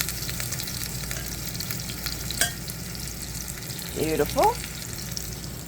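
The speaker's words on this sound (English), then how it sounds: "I'm just making sure all sides are good and seared up before I transfer." Pork cuts sear in a hot pan with a steady broadband sizzle throughout, a brief clatter partway and a short spoken word near the end.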